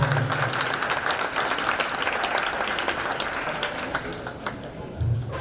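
An audience applauds at a 5th and 6th grade school band concert, with steady, full applause filling the room throughout and faint voices underneath.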